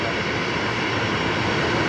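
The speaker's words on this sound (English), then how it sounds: "Rex has just started their right-hand engine there while on the bay" A Rex airliner's right-hand engine runs on its parking bay at Brisbane Airport, giving a loud, steady, unbroken roar with no voices.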